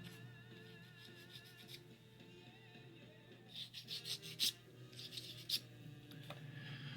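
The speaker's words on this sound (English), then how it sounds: "I'm going to do a little sanding on it so it sits down a little bit" Short, scratchy sanding strokes rasp in a quick cluster on a plastic 1/200 scale USS Iowa model part, fairly close and quiet, over a steady low hum with no talking.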